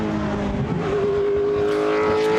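A Toyota Tundra NASCAR truck series pickup races past at Goodwood, its loud V8 engine holding a steady high drone close by throughout.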